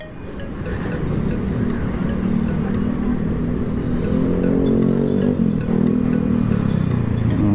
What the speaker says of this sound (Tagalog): Puro ingay yung motor.